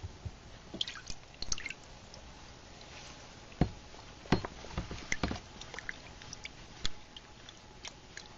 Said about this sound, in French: il suffit de la tremper dans le fixateur